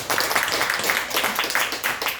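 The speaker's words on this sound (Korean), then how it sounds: "다시 한번 영광의 박수를 올리겠습니다." Congregation clapping together during a New Year's Day church service, a dense, steady wash of hands filling the room throughout.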